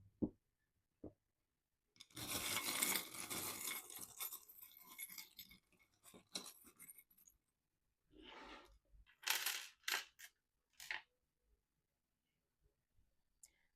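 Small charms rattle and clink in a bowl as it is shaken in bursts, a loud jangling rush first, then shorter clattering shakes separated by silence, close to the microphone.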